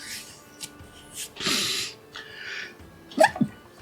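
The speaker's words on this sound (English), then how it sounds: "Sneezy sneeze." A single person sneezes, a short airy burst followed by a breathy sniff and a brief voiced catch, close to the microphone with soft rustling around it.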